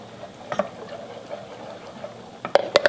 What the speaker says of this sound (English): So stirring it and then just pouring it in.